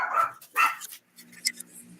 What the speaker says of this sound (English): The dog even agrees.